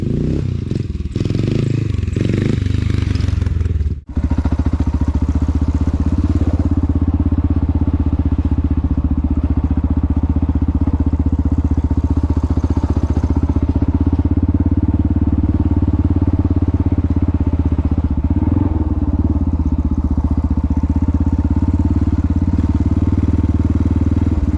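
A Honda XR650L motorcycle engine runs loud and close with a steady low rumble, a brief clattery rev and a sharp knock near the start, then it settles into a constant drone.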